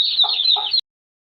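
A hen clucking with her newly hatched chicks, a steady high cheeping from the chicks running throughout and two lower clucks from the hen, close by and with no talk.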